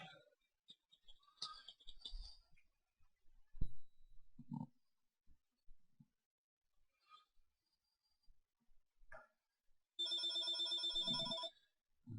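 A telephone rings once in a classroom during an algebra lesson, a short bright electronic trill of about a second and a half, heard after scattered faint sounds and quiet murmurs.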